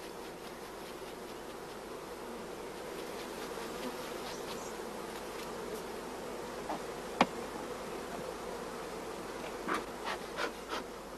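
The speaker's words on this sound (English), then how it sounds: "All bees are brushed from the other frames, and the frames are temporarily placed into an empty hive body." Honey bees buzz steadily around an open hive as frames are brushed and moved during queen rearing, a dense continuous drone close by with a few louder passes near the end and no speech.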